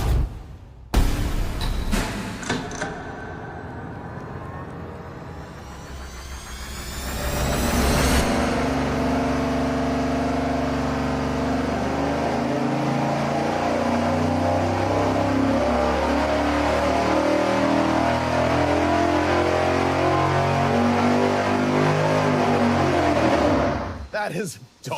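A 454 big-block Chevy V8 on an engine dyno, fitted with a Speedmaster dual-plane intake manifold, cranks, fires and idles roughly, then revs up and holds a loud, steady, sustained roar before cutting off.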